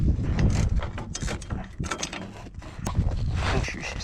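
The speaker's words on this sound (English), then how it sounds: "Put the bolt through. Put the nut on." A ratchet wrench tightens a nut onto a bolt during a Braaamp tailgate bar install, giving loud, close, uneven mechanical clicking and clanking over a few seconds.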